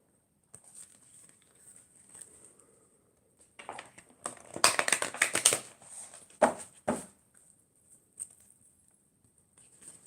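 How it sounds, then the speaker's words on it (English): A deck of playing cards being shuffled nearby, with a dense riffling burst of crisp, rapid flutters in the middle followed by a couple of shorter riffles and soft handling sounds before and after. "Have a good shuffle."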